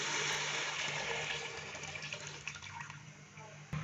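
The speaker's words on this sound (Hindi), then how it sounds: "तो 5 गिलास हम इसके अंदर यखनी डालेंगे।" Meat stock (yakhni) poured from a glass into a cooking pot for beef and pea pulao, a steady close splashing liquid pour lasting a few seconds and tapering off near the end.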